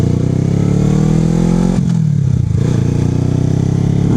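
A 250cc motorcycle engine rises in pitch as the throttle is rolled on lightly, then dips and settles back to a steady, close, even drone.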